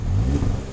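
A 2021 Kia Forte GT's 1.6-liter turbo engine, paired with a 7-speed dual-clutch gearbox, revs in a brief, loud, close burst of rising engine roar.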